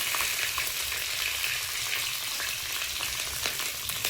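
Bay leaf, whole cumin and slit green chili crackle and sizzle in hot oil for a jackfruit-seed and potato curry, giving a steady close frying hiss with scattered small pops and faint stirring, no voices.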